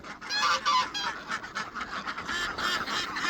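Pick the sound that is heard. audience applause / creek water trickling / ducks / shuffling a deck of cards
ducks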